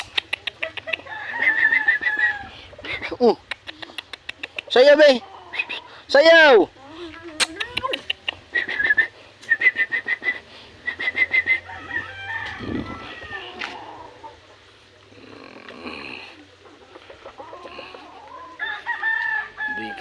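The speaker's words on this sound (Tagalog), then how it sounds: "Ka backyard ito mga manok" Backyard chickens cluck in busy bursts while a rooster crows loudly several times nearby, with a person talking over the birds.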